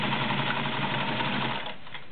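A Kenmore model 1318 sewing machine runs a multi-point zigzag stitch with a steady, close, fairly quiet mechanical whir that slows and fades just before stopping.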